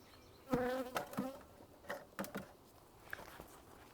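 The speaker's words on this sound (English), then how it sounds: "Well, there's definitely a lot of bees" Several honeybees buzz close by around a hive in short bursts that come and go, with the hum fading in and out over quiet background.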